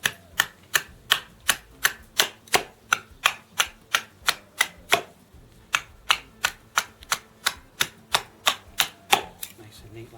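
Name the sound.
axe trimming wood to make a tent peg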